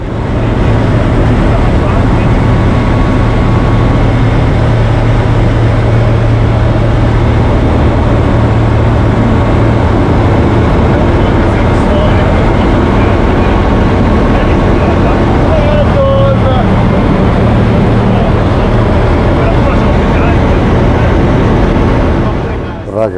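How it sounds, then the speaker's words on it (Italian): A Groppo G70 light aircraft with a Rotax 915 engine drones steadily and loudly at full takeoff power, about 5800 rpm, a constant engine roar heard from inside the cockpit throughout, with a brief change partway through. "siamo pronti al decollo, tutto motore dentro, 5800 giri e via."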